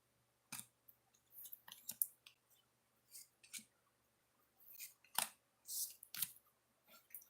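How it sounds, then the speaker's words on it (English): An oracle card deck being shuffled by hand: several short, crisp papery riffles and snaps come in separate bursts with quiet gaps, close and fairly soft, with no talking. "One shuffle for Cancers."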